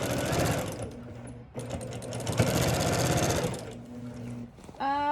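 A sewing machine runs in steady bursts while stitching in the ditch on a no-batting quilt, motor whirring loudly with two brief pauses, then a final higher whine as it speeds up at the end.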